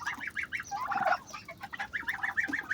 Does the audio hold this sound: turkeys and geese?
yes